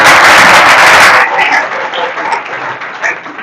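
Loud, dense applause from an audience at a Hindi-language youth organization event fills the opening second, then thins into scattered, lighter clapping that carries on to the end.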